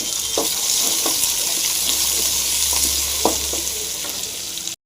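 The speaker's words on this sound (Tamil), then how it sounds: "சம்பார் வெங்காயம் இப்போ நல்லா ஃப்ரை பண்ணிக்கலாம்" Small sambar onions frying in hot oil with cumin and crushed garlic for a ridge gourd and bottle gourd stir-fry, a continuous close sizzle broken by intermittent spoon scrapes and taps against the pan.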